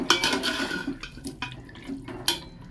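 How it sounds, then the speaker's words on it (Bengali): A pot lid lifted and a home-cooked tomato dish stirred, close clattering and scraping strokes with wet, splashy bursts at irregular intervals between quieter pauses. "আরও একবার খুলব একটু মিশিয়ে নেব"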